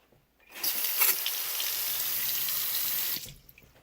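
Water sprays and hisses from a newly reassembled sink faucet whose O-ring has fallen out, a broadband gush that starts abruptly, holds steady for about three seconds, then cuts off.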